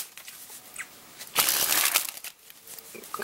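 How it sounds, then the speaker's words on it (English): One-handed riffle shuffle of Bicycle playing cards, with soft scattered card clicks followed by a brief, dense burst of riffling flutter and then lighter taps, close and fairly quiet. "a one-handed riffle shuffle as well"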